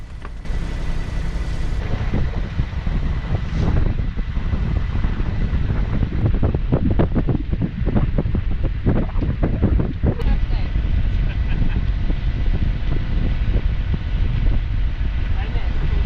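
A sailboat leaving port under sail at sea, with steady loud wind buffeting and the rush of water along the hull throughout, plus occasional knocks and rattles on board.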